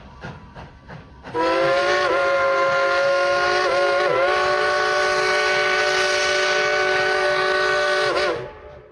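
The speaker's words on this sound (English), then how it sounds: "let's yell and tell the engineer to blow that whistle real loud." A loud steam whistle on the Dollywood Express, a steam train running through the Smoky Mountains, sounds one long sustained blast of nearly seven seconds after a few faint knocks, then cuts off.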